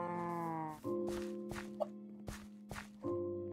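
A cow in the Feed The Beast Minecraft modpack gives a few low, drawn-out synthetic moos, the first long and tonal, then shorter repeats at steady volume, punctuated by brief clicky game hits and effects, with no talking.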